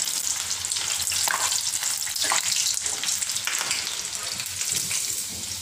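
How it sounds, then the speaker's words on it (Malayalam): Half-boiled potato pieces fry in oil for homemade French fries. A steady, dense sizzle crackles close by throughout, with no talk. "എന്നിട്ട് ഇത് നമുക്ക് പതുക്കെ ഓയിൽ വറുത്തെടുക്കാം."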